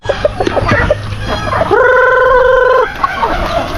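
Hungry turkeys penned on a farm call out in a loud harmonic gobble lasting about a second, nearby, amid scattered clucks and other fowl noises before and after.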